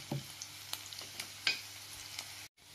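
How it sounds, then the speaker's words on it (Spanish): Garlic and onion browning in a pan, a soft close sizzle with scattered crackles and a light utensil clink, quiet overall, ending abruptly. "dorar nuestro ajo y la cebolla"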